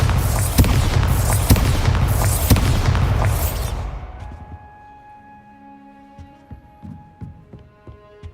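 Bombarda explosion spell in Hogwarts Legacy: a string of deep, loud booming blasts over a rumbling roar for several seconds, then fading into quieter humming tones and soft thuds.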